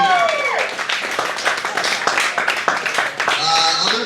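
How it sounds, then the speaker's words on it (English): A comedy club audience applauds and cheers for a stand-up comedian, dense clapping close and loud throughout, with a voice speaking over it at the start and end. "One more round of applause for Nolan"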